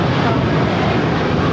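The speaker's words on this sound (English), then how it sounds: "United Airlines 1224 taking off to Honolulu on the 757-300." A United Airlines Boeing 757-300 takes off from LAX bound for Honolulu, heard as a loud, dense, steady jet roar filling the whole moment without a break.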